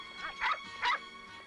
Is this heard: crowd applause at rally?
no